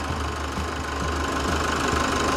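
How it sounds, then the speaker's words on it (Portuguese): A 2017 Chevrolet S10 pickup engine idles steadily after an overhaul with decarbonization and timing belt work, giving a loud, even, close-up running rumble with a faint rhythmic ticking throughout. "estamos aqui com o motor funcionando"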